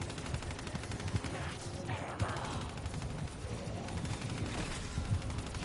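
Rapid video-game gunfire from a zombies Easter egg run crackles in steady bursts throughout, mixed with scattered impacts while players shout and talk over it.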